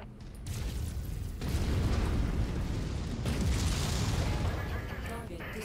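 Artillery strike explosions in the MechWarrior 5 video game, a continuous heavy rumbling barrage of booms and blasts that swells and holds loud across several seconds with no pause.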